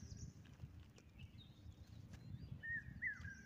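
A common hawk-cuckoo calls at a farm in the morning with a few faint, distant, rising whistled notes over a low background rumble.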